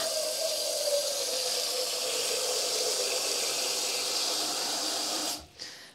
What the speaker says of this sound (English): I am going to fill this with water.